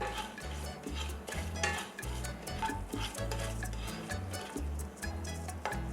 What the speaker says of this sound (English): Saute the whole spices.